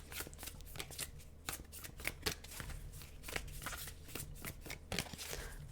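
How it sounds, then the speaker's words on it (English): A big, bulky tarot deck is shuffled by hand, producing quiet, continuous riffling and flicking card sounds in close, irregular bursts with no talk. "this deck is very big and bulky and hard for me to shuffle."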